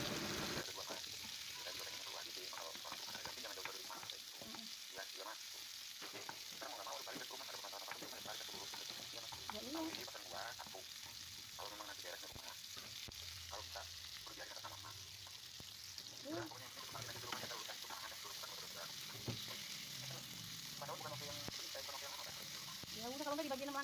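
Chilies and tomatoes are stir-fried in a pan, giving a steady broadband frying hiss for the whole stretch, with occasional scraping and stirring noises and some faint voice sounds in the background.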